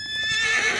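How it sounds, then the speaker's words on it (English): A horse in a hunting video game gives a single loud, close whinny that rises and trembles for almost a second. "Oh, Prince Lucky, I'll pet you as soon as I can get this horse"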